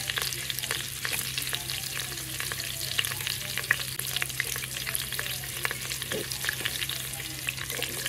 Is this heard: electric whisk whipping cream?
no